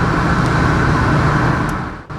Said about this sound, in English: Turbo kicks in like it should.